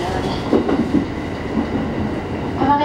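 A JR East Hachiko Line train running on rails between Haijima and Komagawa, a loud, steady rumble with faint rhythmic clatter, and a brief rise in pitch near the end.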